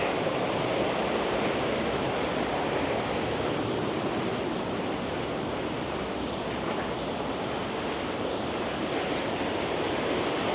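A waterfall in Killarney National Park, Ireland, roars with steady, broadband rushing water for the whole stretch, close and continuous without pauses or voices.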